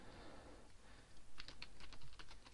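Keys clattering on a computer keyboard while a first tweet is typed, quiet at first and then a denser run of close clicks in the second half, no talking.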